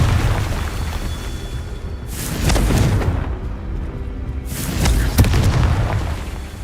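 Confringo fire spell in the Hogwarts Legacy video game bursting as two loud booming explosions a few seconds apart, each with a rumbling tail.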